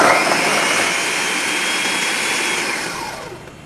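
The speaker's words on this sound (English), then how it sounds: "And we're going to blend again." A kitchen blender blending ingredients gives a loud, steady, high whirring roar that holds evenly, then winds down and fades near the end, with no talking.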